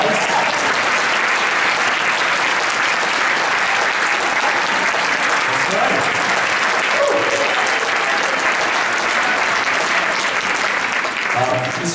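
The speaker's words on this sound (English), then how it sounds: "So let's give them a big round of applause." A large audience gives loud, sustained applause after a high school pops and jazz concert. The thick wall of clapping holds steady for the whole stretch, with faint voices underneath.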